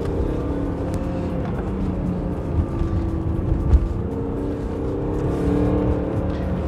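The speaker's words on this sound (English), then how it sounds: "Car sounds really good for a diesel for me." A BMW 330d E92 LCI diesel engine running steadily with a low, even rumble, swelling briefly around the middle and toward the end, with no talk over it.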